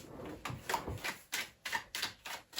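A deck of tarot cards cut by hand five times, each cut a quick crisp riffle-and-tap, evenly spaced and close up, with no talking.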